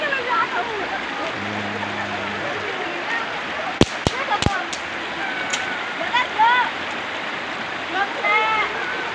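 River water rushes and splashes steadily during a school river cleanup, with people talking and calling over it and a few sharp knocks partway through.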